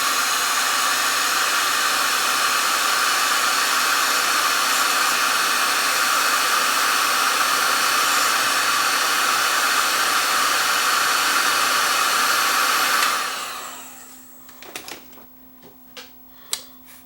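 A heat gun blows a loud, steady roar over the mechanism of a Sony TC540 reel-to-reel tape deck for about thirteen seconds, then cuts off, leaving faint mechanical clicks and taps.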